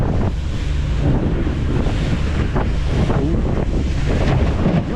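Strong wind at sea off the Lofoten Islands, a constant loud roar buffeting the microphone, mixed with water rushing around a small boat, steady and close throughout.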